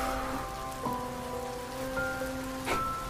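Steady rain falls in a drama scene, a continuous soft hiss of drops on surfaces under a faint sustained musical tone, with a few louder splashes.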